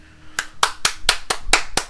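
Seven sharp, evenly spaced hand claps ring out one after another, close and distinct with brief silences between them and no voices.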